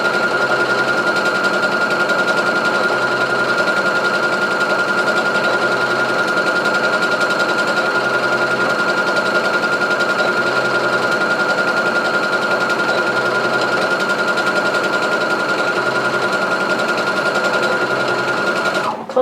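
A Brother SE400 embroidery sewing machine, previously stuck in reverse, runs continuously at a steady pace, its motor humming with a fast, even mechanical chatter throughout, stopping abruptly at the very end.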